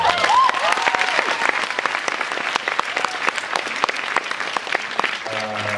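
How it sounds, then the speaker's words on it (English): Sustained audience applause at a Fan Expo 2013 convention fan panel for actress Sarah Paulson, a dense steady roar of many hands clapping filling the hall, with a few brief tones near the end. "let's get a round of applause for Sarah"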